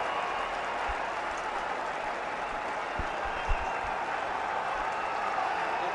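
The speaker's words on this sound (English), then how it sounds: "Wildly appreciated by the crowd that's here in Rawalpindi today" Cricket crowd in Rawalpindi applauding steadily throughout as a batsman reaches fifty in a Pakistan vs England Test match, a broad continuous wash of clapping with a few low thumps, no voices heard.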